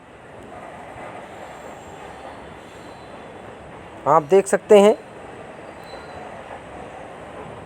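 Passenger train on the Aonla to Chandausi route pulling into a railway station, a steady low rumble of wheels on rails from inside the train, with someone speaking briefly over it midway.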